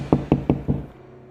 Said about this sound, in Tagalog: may kumatok sa kanilang pintuan